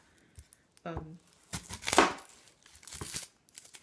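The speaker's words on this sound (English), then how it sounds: "So now I'm cutting a really gigantic onion." A very large onion being cut with a knife in a home kitchen, giving a few sharp close chops and crisp slicing crunches scattered over a few seconds, with no talking.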